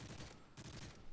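Rapid gunfire from the video game Modern Warfare 3 during an Arctic Recon mission, a dense continuous burst of shots with no pause across the whole moment.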